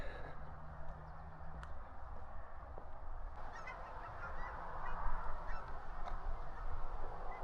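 Distant goose-like honks from birds at night, faint and intermittent over a steady low outdoor rumble, with a few soft calls scattered through.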